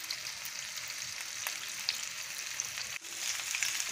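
Fish frying in a pan, a quiet steady hiss and crackle of hot oil with a faint stir or scrape near the end.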